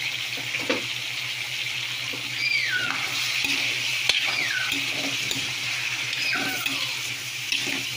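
Meat fries and is stirred in a pan for humba, a steady close sizzle with scattered clinks and scraping stirs, alone without talk.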